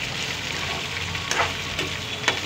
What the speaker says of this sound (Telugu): ఉల్లిపాయ ముక్కలు కూడా వేసేద్దాం.